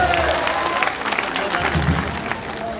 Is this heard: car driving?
no